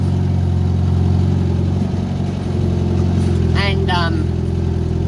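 A recently repaired Leyland vehicle drones with a steady, loud engine hum while driving, with a few brief chirping sounds over it.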